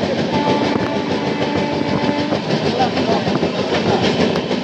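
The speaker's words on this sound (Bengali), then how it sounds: "সেসব ট্রেনগুলো কিন্তু এই স্টেশনটা মাস্ট হল্ট দেয়।" A train passing through a busy railway station on the line from Kharagpur toward Bhubaneswar, a loud continuous rumble with clattering wheels, squealing tones and station noise throughout.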